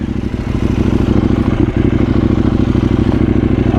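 A KTM 790 Duke motorcycle engine drones steadily and loudly while riding on the road, a continuous low throbbing with no speech.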